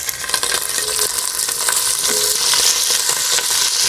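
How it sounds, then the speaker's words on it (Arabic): Beef pieces frying in plain and olive oil in a pan on a stovetop burner, giving a loud, continuous hissing sizzle close up, with light stirring noises and no voices. "هننزل باللحمه بتاعتنا"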